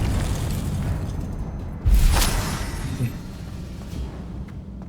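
A Confringo blasting spell going off in Hogwarts Legacy: one sudden booming burst midway, standing out from a steady rumbling game background.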